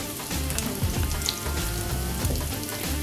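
Carrots hitting hot frying masala for vegetable macaroni pasta, a loud, dense, continuous sizzle with a few sharper crackles as they land in the pan.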